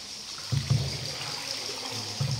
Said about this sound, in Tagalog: tubig palang tumutulo dito.